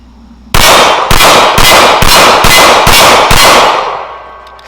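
A Springfield 911 pistol fires PMC ammunition at an outdoor range: seven loud, evenly spaced gunshots, each with a ringing, echoing tail that fades after the last shot.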